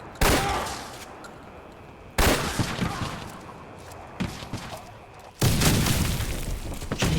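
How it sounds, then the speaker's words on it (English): Repeated game explosions and gunfire from grenade blasts in Fallout 4 combat, four sudden loud bursts spaced a couple of seconds apart, each decaying into a rumbling crackle of battle noise. "I'm sure I can hear grenades dropping"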